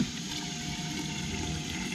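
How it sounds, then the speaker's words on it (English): Water pump in a boat livewell recirculating water drawn from the bottom and returned at the top with a Venturi valve adding bubbles, giving a steady close gushing, splashing wash with no break. "It's sucking it from the bottom, pumping it at the top, and the bubbles are coming in with the Venturi valve"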